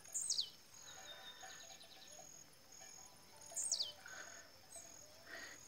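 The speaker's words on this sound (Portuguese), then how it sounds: "Passarinho aí que canta, canta pulando aí" A blue-black grassquit sings in the dry sertão scrub of Pernambuco, Brazil, giving two short, high, rising buzzy notes a few seconds apart over a faint steady chorus of crickets and insects.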